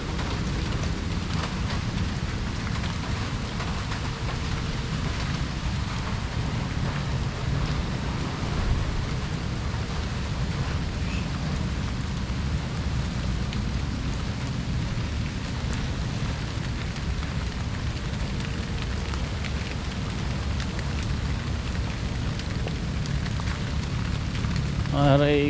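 Heavy monsoon rain pours down steadily in a dense, close hiss, with low rumbling thunder underneath and a few brief faint sounds near the end.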